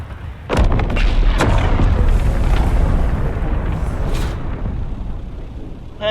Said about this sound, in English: That's going to be a spice field that's about to blow.